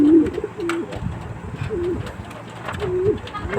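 Pet pigeon cooing nearby, several soft low warbling coos spread across a few seconds over faint background noise.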